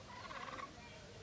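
A single short, warbling call from a bird at a zoo in Kingston, Jamaica, close and faint against a soft background hum.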